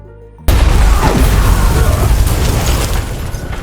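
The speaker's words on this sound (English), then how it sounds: "There was a lift coming down in which there exploded a bomb." A bomb goes off inside a descending lift in a film scene: a sudden loud blast cuts in after a brief quiet start, then a long rumbling, crackling roar of debris trails on for several seconds.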